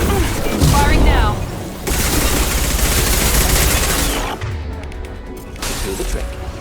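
Gunfire in the video game Mass Effect 2 sounds as loud, continuous bursts of shots and crashing impacts, with a brief dip between volleys and combat noise carrying on throughout.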